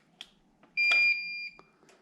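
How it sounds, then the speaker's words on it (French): A Fresenius Agilia infusion pump alarm sounds a single sustained electronic beep tone lasting under a second, with faint handling clicks before and after. "Il me fait une alarme."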